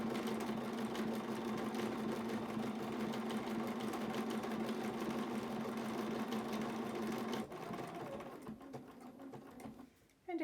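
A sewing machine stitches a decorative edging along a gentle curve on blue fabric, its steady close whirring motor running continuously for several seconds before it slows and briefly stops near the end.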